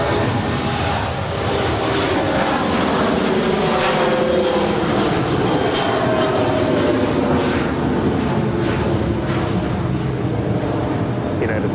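An Air Tahiti Nui airliner roars at LAX airport in a loud, sustained jet rush that holds steady throughout, with faint background chatter.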